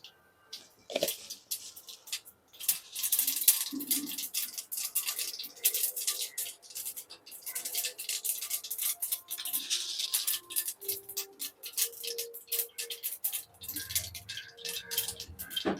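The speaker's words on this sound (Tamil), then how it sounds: "கடாய் சூடானதுக்கப்புறமா ஆயில் சேர்த்துக்கிறேன் நெக்ஸ்ட்டு கடுகு சேர்த்துக்கிறேன்" Mustard seeds spluttering and popping in hot oil in a kadai, a dense crackle of rapid small pops close up that runs throughout, with no talking.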